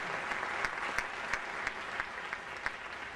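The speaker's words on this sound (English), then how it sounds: "Let's give those people a round of applause." An audience at a 2011 Martin Luther King Jr. Day event gives steady, fairly faint applause that sounds distant, with no voices over it.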